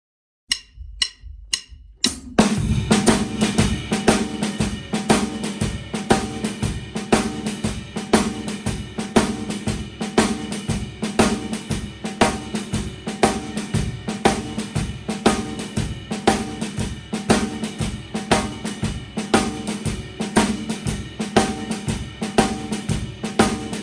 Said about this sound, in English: we're going to create a two-handed shuffle with the jazz right beat